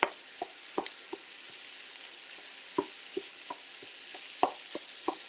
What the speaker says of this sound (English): So we're gonna break that up together over our onions and garlic.